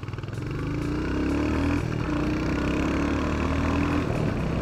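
A motorbike engine runs at a steady idle after being switched on, a close, continuous mechanical thrum with faint clatter holding even for several seconds, no voices over it.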